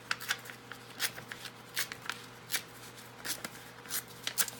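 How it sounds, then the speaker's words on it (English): Paper being torn by hand while making a handmade planner, a quick series of short crisp rips and rustles close to the microphone, quiet overall with no talking. "let's rip this like about here"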